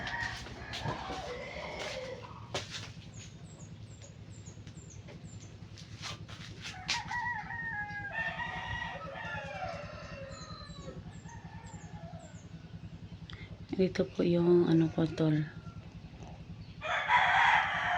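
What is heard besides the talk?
chickens and rooster crowing outside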